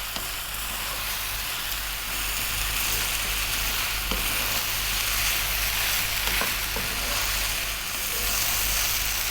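Chicken fried rice sizzles in a pan over maximum heat, with a steady, close frying hiss and occasional scrapes of stirring running unbroken throughout.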